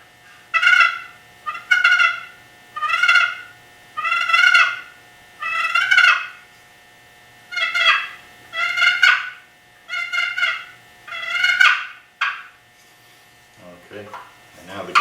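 A wooden cedar turkey box call plays repeated short rasping bursts, about ten rhythmic yelping clucks close to the microphone, imitating a turkey, ending with a brief low sound.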